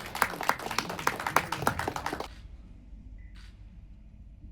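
Audience applause at a Kannada movie press meet, a dense patter of hand claps for about two seconds that stops abruptly, leaving a quiet room with faint background noise.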